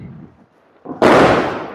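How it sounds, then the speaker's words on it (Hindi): An aloo bomb firecracker bursts during Diwali celebrations: after a quiet moment with faint background noise, one loud, sharp bang erupts close by and rings out for a fraction of a second. "आलू बम जो हैं वो फोड़े जा रहे हैं"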